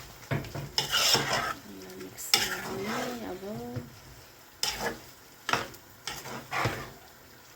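Soaked rice is stirred through chicken pulao in a pot, with repeated scraping and clinking of a spoon against the pot in short bursts over a faint sizzle, and no talk.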